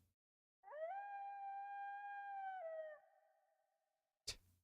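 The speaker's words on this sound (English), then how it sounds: "There's all this howling of the wolf." A wolf howl sound effect from Persona 3 Portable: a single long, steady tonal howl that holds its pitch, dips slightly and fades out, followed by a brief sharp click in otherwise quiet surroundings.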